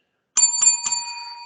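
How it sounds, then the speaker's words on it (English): A bright bell, like a bicycle bell, rung three quick times to close a wrestling podcast, loud and close against silence, each strike ringing out and the tone decaying after the last. "There's the bell, so we know what that means."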